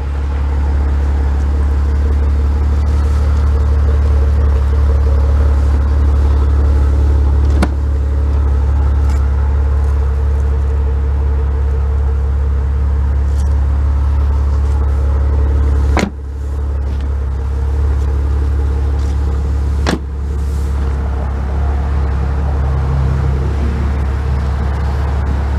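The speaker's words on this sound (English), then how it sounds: "The exhaust just sounds great on these." Exhaust of a 2017 Maserati Ghibli SQ4 AWD idling close by, a steady deep rumble throughout with a few faint clicks and brief dips along the way.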